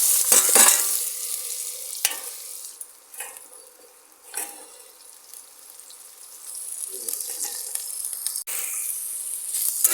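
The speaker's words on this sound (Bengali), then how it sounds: "বন্ধুরা তেল গরম হয়ে গিয়েছে আদা রসুন পেঁয়াজ সব দিয়ে দেবো কড়াতে" Ginger, garlic and onion hit hot oil in a wok with a loud burst of sizzle that eases into a steadier fry, with scattered stirring scrapes and a renewed surge of hissing toward the end.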